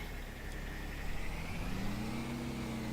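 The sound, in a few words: tractor engine in video game Farming Simulator 22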